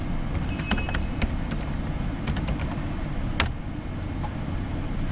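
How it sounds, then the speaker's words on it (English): Scattered keystrokes on a computer keyboard while a web address is typed, light crisp clicks in irregular bursts over a constant low hum. "let me type the address"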